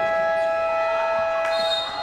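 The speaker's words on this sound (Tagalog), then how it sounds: "narinig natin yung buzzer, merong tayong timeout" A loud, sustained timeout buzzer sounds at a Filipino basketball game between San Vicente and Mercedes, a steady electronic tone that holds for about two seconds over a constant roar of arena crowd noise.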